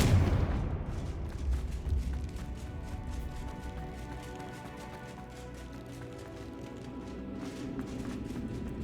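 A Confringo blasting spell in the video game Hogwarts Legacy opens with a loud explosive boom and rumble, then leaves a rolling, clattering tail of debris and ambient game sound that slowly fades.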